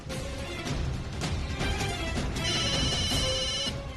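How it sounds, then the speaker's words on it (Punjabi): A phone ringtone plays steadily for several seconds, a repeating electronic melody with bright tones, fairly close and alone without talk. "ਉਹ ਇਹ ਫੋਨ ਨੇ ਵੀ ਹੁਣੇ ਵੱਜਣਾ ਸੀ।"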